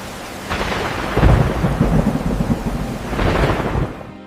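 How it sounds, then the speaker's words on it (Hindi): Heavy rain pours steadily while rolling thunder rumbles loudly overhead in two long swells. "बारिश तो बहुत तेज हो रही है"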